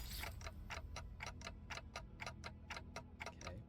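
A steady, clock-like ticking repeats in even beats within the video game Canto, quiet and clear against a low ambient hum.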